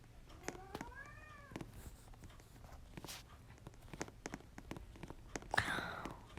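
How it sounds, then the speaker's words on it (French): A pet cat meowing indoors: one clear drawn-out meow near the start, followed by faint scattered taps and rustles and a brief noisy scuffle near the end. "Désolée, il y avait mon chat"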